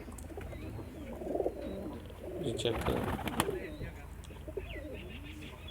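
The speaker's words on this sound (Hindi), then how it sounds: "कुछ बड़े कबूतर भी इनमें हैं।" Several pigeons coo in a low, overlapping murmur, among them some large birds, with a few chirps and a voice speaking over them in the middle.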